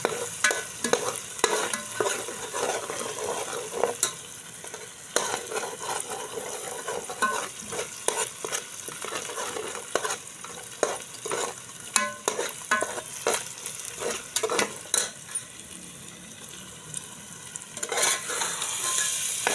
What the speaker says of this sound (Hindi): अब ये मैंने इसके अंदर अंडे डाल दिए।